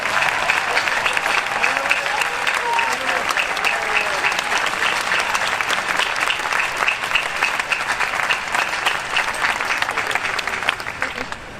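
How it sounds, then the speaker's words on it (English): Sustained loud applause from a large crowd of graduates at a senior convocation, dense clapping that holds steady throughout and tapers slightly at the end. "All you graduates, stand up and give your parents a round of applause and thank them."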